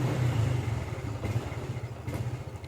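A Honda Revo Fi motorcycle engine at low RPM, around 1000 to 1500, idles with a rough, uneven stutter, close by and moderately quiet, with no voices.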